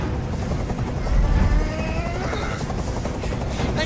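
Helicopter passing overhead in the video game Detroit: Become Human, a loud chopping rotor drone that swells to a peak midway and stays steady, with no speech over it.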